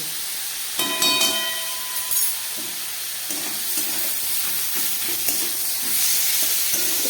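Chicken with turmeric, salt and pepper stir-fries in a pan, a loud continuous hissing sizzle nearby, punctuated by scraping strokes and a few metallic clinks from the spatula.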